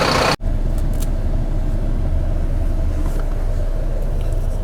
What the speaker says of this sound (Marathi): आपली गाडी जर तुम्ही पाहिले असेल भारत बेन्स कंपनीची आपली बेस असणार आहे